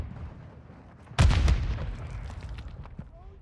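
A stun grenade going off in Call of Duty: Modern Warfare II, a sudden loud close boom that rolls off into a decaying rumble.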